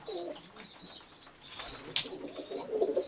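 Young pigeons in a loft cooing softly close by, with a brief burst of wing flapping midway and faint chirps around them.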